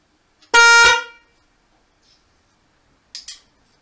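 Aftermarket horn on a Harley-Davidson Sport Glide motorcycle gives one loud, close, harmonic honk of about half a second, then a faint double chirp a few seconds later.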